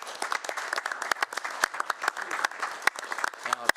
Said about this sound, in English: I would like to lead a round of applause in congratulations of 35 years